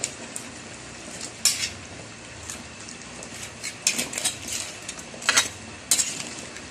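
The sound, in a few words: stirring jackfruit cooked in coconut milk with crab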